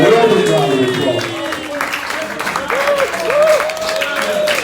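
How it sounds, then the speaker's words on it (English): Applause from a crowd welcoming Alderwoman Robin Sue Simmons at a reparations event: steady clapping runs throughout, with a voice carrying on over it. "Give her a real big round of applause, guys."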